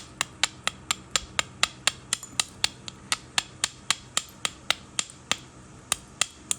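Flint is knapped by direct percussion to take down a stone edge, some two dozen sharp, crisp ticks struck in a quick, even rhythm, close and clear with no talking.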